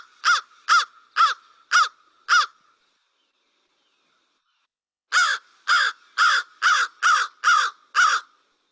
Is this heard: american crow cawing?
yes